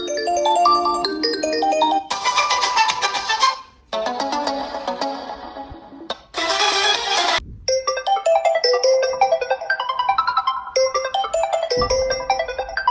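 Infinix Note 50 phone with dual JBL-tuned stereo speakers loudly playing a bright melodic ringtone, bursts of chiming notes alternating with brief pauses, clear and close with no talking.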